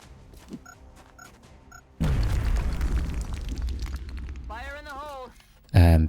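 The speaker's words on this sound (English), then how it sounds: "we can now send in Heavy Kim Lupai for the guaranteed grenade kill" A grenade goes off in XCOM Enemy Within, a sudden loud boom followed by a long rumbling decay, preceded by quiet game ticks and followed by a warbling effect and another sharp burst at the end.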